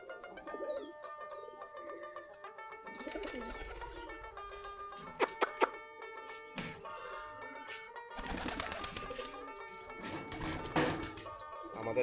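A flock of desi Giribaz pigeons coos steadily around their loft, with overlapping calls throughout and a few sharper clattering bursts in the middle and near the end.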